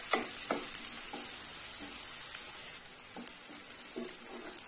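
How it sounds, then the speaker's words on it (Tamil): Two large finely chopped onions sautéing in a pan with curry leaves for a tomato gravy, a close constant hiss and sizzle with repeated spatula scrapes and clinks. "இந்த வெங்காயம் எல்லாம் வதங்கிடுச்சு"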